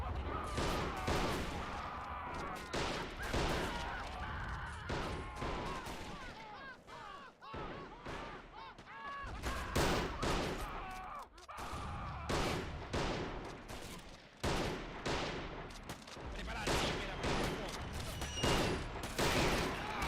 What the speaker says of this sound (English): Good shooting, finally.